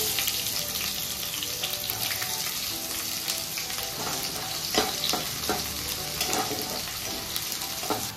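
Chopped onions, mustard seeds and curry leaves fry in hot oil for poha, a loud dense continuous sizzle with occasional crackles and stirring taps, close up and without talk.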